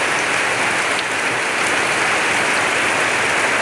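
Steady, continuous village rain during a long downpour, an even broadband hiss that stays constant throughout with no breaks or voices.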